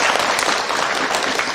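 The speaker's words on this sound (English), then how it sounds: "So let's all give him a round of applause." Seminar audience applauding steadily, a dense even wash of clapping from many hands that holds at full level throughout, with no talk over it.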